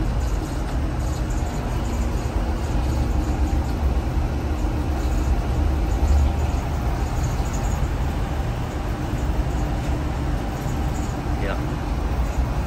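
Interior of an RV motorhome on the road, with a constant low engine drone and road rumble running steadily underneath, fairly loud, with speech heard over the top.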